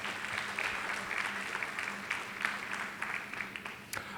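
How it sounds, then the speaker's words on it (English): Audience applause for assistants at a glassblowing guest artist demonstration at the Corning Museum of Glass, a steady, moderately distant patter of many hands clapping for several seconds. "So big round of applause for all of them."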